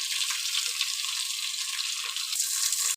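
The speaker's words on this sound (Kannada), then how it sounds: "ಚೆನ್ನಾಗಿ ಫ್ರೈ ಮಾಡ್ಕೊಳ್ಳಿ ಈರುಳ್ಳಿ ಎಲ್ಲ ಫ್ರೈ ಆದಮೇಲೆ" Onions sizzle in a pan over a low flame while cooking for a mutton sambar, a steady close crackling hiss with no voices.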